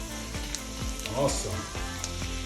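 Salmon fries in butter and garlic in a pan with a steady, close sizzle and crackle, while someone speaks briefly over it.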